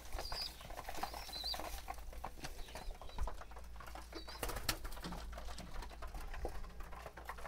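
Pigeons kept in a coop coo softly and intermittently, with a few faint wing flutters and small rustles in the background.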